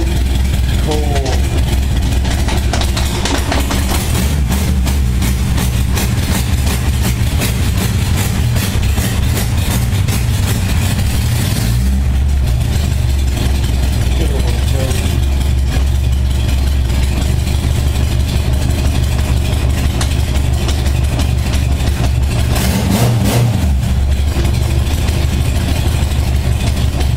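A 1978 Honda Goldwing motorcycle engine idles loudly and steadily from a cold start, running rough with a few uneven surges throughout, with voices occasionally heard over it.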